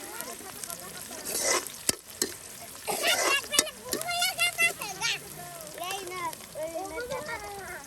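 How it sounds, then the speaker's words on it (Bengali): Oil frying and sizzling in a pan during riverside outdoor cooking, a steady crackling hiss with stirring clatter, while voices talk over it throughout. "এই যে দেখুন তেল কিন্তু একদম ভেজে ভেজে নেওয়া হচ্ছে।"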